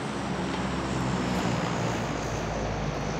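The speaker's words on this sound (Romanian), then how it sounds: "Trece și avion" A propeller aircraft in the PlayerUnknown's Battlegrounds video game drones steadily overhead, a loud, continuous low engine roar holding through the whole stretch with no speech.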